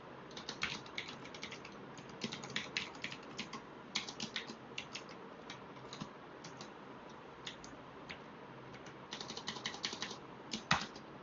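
Quiet, close typing of Python code on a computer keyboard, with irregular bursts of soft key clicks, short pauses between bursts and a sharper clack near the end.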